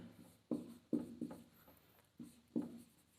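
Chalk or marker strokes on a board come in short scratchy bursts, faint and close, with brief pauses between the strokes.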